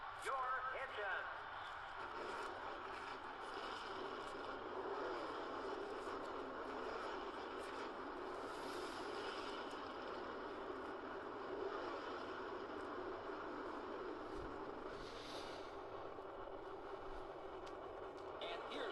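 A field of NASCAR stock cars roars in the NASCAR Thunder 2003 racing game before the Coca-Cola Racing Family 600, their engines a dense, steady, loud drone that fills the whole stretch without letting up.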